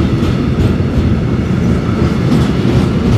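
Freight train wagons rolling past close by, a loud, steady low rumble with continuous rhythmic clatter of wheels on rails, no voices.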